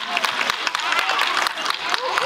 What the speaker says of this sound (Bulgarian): Още един път аплодисменти!